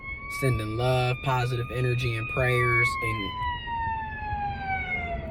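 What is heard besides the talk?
fire truck siren passing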